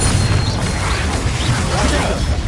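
Blasting curse explosion cast as Confringo in the Hogwarts Legacy video game, a dense, sustained roar of blast and debris noise that fills the whole moment without a clear single strike.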